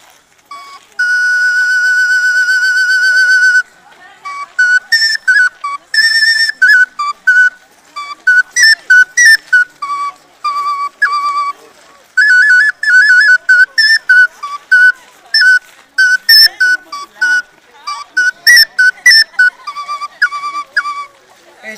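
An ancient Mesoamerican flute plays an improvised melody at Teotihuacán, Mexico: a clear, piercing held note followed by quick runs of short whistling tones and pauses, loud and close.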